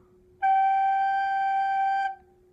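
One long, steady wind-instrument note played by covering hole number three with the third finger, clear and close with a bright tone, beginning crisply, holding for over a second and a half, then cutting off into silence.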